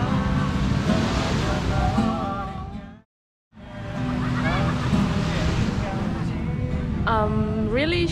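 Surf washes onto a public beach where people hang out playing guitar, a steady broadband hiss under strumming music and nearby voices, broken by a brief full silence around the third second.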